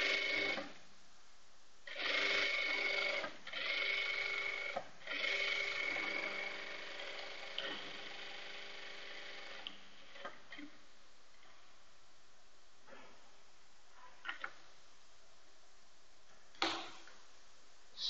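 A sewing machine runs a back stitch in several whirring bursts of a few seconds each, close and steady, then gives way to quieter clicks and handling.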